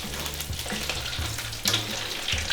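Crab deep frying in hot oil gives a steady, close sizzle with crackling pops, building in brief surges and continuing without speech.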